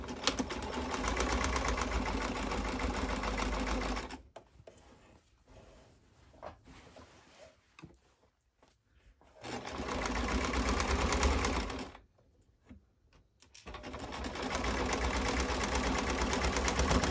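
A sewing machine stitches boxer-shorts fabric, running over the pins, in long steady close-up whirring bursts separated by short pauses.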